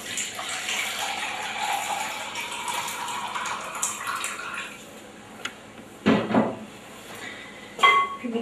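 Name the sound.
warm water being poured for bread dough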